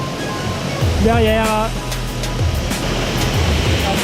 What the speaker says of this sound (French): Direction le dessous de la cascade.